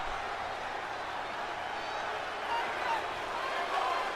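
Arena crowd in the WWE 2K20 video game cheering before a Universal Championship title match, a steady broad roar with a slight swell near the end and a faint commentary-like voice underneath.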